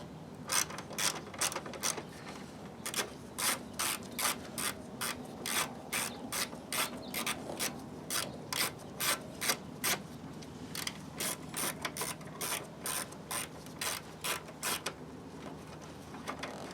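A ratchet wrench clicks in quick repeated bursts while loosening a bolt on the AC condenser of a Volvo S60 T5, close-up and crisp, with brief pauses between strokes and steady faint background hum.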